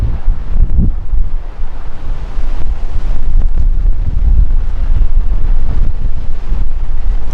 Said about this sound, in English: Not one of the biggest winds we've had here, but certainly a good wind.